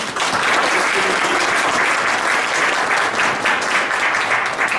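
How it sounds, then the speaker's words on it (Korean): A meetup audience in Seoul gives steady, dense applause for young presenters from FidentiaX, loud and close and unbroken for the whole stretch. "그 FidentiaX 발표해 주신 아이들께 박수 한 번만 더 부탁드리겠습니다"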